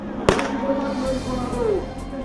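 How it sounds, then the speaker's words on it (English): A starting gun fires for a children's marathon race, one sharp, loud bang followed by the noisy murmur of an outdoor crowd. "wait for the gunshot to go off"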